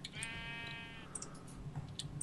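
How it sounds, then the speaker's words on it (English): Sheep bleat in the Minecraft video game, a single short wavering bleat heard fairly faintly over a low, steady background with a few soft clicks, and no talking. "Alright, we've got some red sheep."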